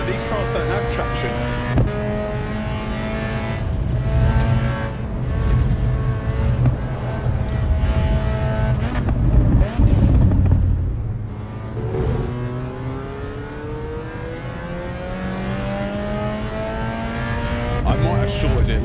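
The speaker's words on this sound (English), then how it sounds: "These cars don't have traction." Race cars in Assetto Corsa EVO drive on track, engines rising and falling in pitch through repeated gear changes and accelerations, with a brief drop-off midway before revving up again; a voice speaks over the engine at times.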